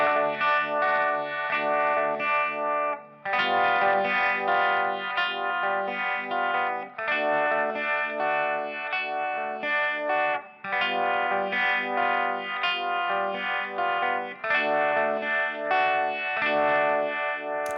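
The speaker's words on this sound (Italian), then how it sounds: "Prima di tutto mettiamo il nostro Univibe e sui Fractal la simulazione proprio dell'Univibe è il Classic Vibe." Distorted electric guitar run through a Classic Vibe Univibe simulation on a Fractal Audio Axe-FX modeler plays sustained chords with a swirling, pulsing chorus-like wobble, loud and continuous with brief gaps between phrases.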